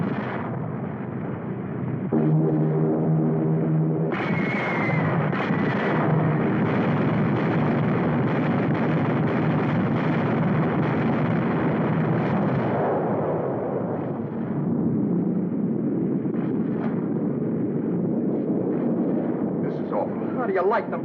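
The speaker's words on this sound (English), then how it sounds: "How do you like them guys bombing San Francisco yet?" Heavy bombs explode in a 1952 film, deep booming blasts and rumbling fire rolling on beneath a droning aircraft tone, while people talk over the din.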